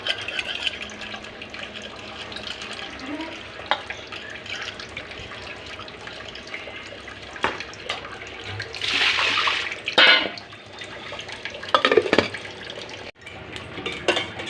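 Cold water is poured into a cooking pot while a greens, moong dal and bottle gourd curry is prepared, giving a steady splashing stream with a few louder gushes and drips in a quiet kitchen.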